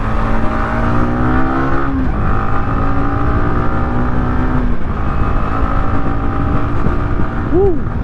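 Yamaha XSR 155 motorcycle on a test ride, its engine droning steadily and loud with shifting pitch as it speeds up and changes gear, mixed with rushing wind, with no gap in the noise.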